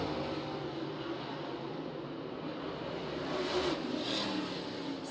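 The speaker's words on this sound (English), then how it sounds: "But Casey Roberts, man, oh man, that Cushman Payton body car showing out right now" SAS late model race cars roar around the Cherokee Speedway oval, a continuous dense engine drone with a louder pass swelling toward the end.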